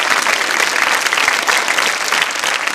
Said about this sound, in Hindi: तालियां जोरों से बजाइए श्रेया जी के लिए